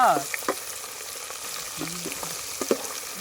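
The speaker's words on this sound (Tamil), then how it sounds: "அடுத்து வாழைக்காய் ஃப்ரை பண்ண போகிறோம்" Slices of raw plantain frying in hot oil in a pan outdoors, a steady crackling sizzle with bird calls chirping over it.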